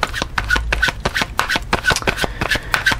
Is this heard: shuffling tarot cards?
yes